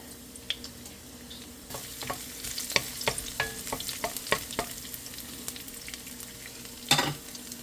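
Garlic frying in olive oil, a close sizzle broken by sharp crackles and pops and a scrape of stirring, with one louder burst near the end and no voices.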